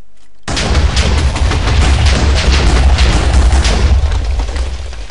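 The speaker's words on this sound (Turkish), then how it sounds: "B tuşu bir patlama yaratır ama burada sizin canınız yanmaz ve bu en güçlü patlamadır" A massive, sustained explosion roars from Minecraft's You Are The Wither mod, a sudden loud blast followed by a long rumbling burst of debris that fades slowly.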